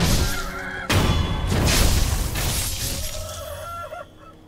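A chicken in Sekiro: Shadows Die Twice attacks with a loud burst of crashing impacts and squawks, followed by shrill clucking as the flurry dies down and quiets at the end.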